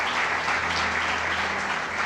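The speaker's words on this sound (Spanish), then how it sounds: "Give God a round of applause." A church congregation applauds, a dense, steady roar of many clapping hands that holds at an even level from start to finish.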